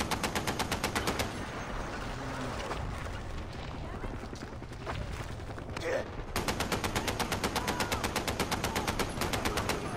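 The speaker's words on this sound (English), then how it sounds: "This is a weird 50 cal." A .50 caliber machine gun in Far Cry 4 fires in long, fast, evenly spaced bursts. A pause with voices and mixed battle noise sits between two loud, rattling stretches of close fire.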